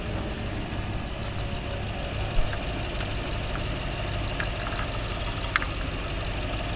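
A 2003 Lexus LX470 with an early 2UZ-FE V8 lacking VVT idles steadily, a smooth continuous engine hum with a few faint clicks and ticks over the top and no voices.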